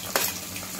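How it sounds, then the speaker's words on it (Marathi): Ginger garlic paste hits hot oil for tempering egg biryani masala, giving a sharp burst of sizzle followed by a steady, fairly close frying crackle, with no speech. "हे आलं लसूण पेस्ट मी घालते आहे"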